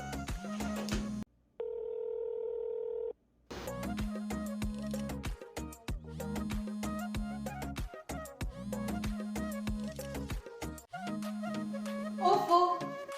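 A telephone rings repeatedly, its electronic tone pulsing in regular bursts with short pauses between, plus a brief higher tone and a voice near the end.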